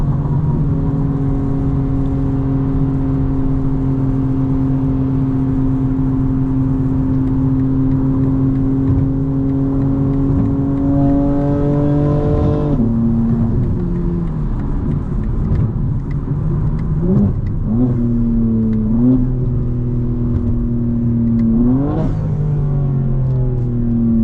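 A 2025 BMW M4 Competition xDrive engine pulling hard, a sustained rising drone that climbs through gears with sharp drops at each shift, then repeated bursts of revving, loud and close from inside the car.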